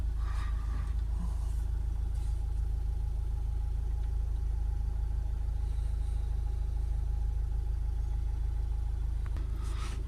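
A Toyota RAV4 2.2 D4D diesel engine, one with a particulate trap fault, idles steadily with a low continuous rumble, heard close and alone with no talking.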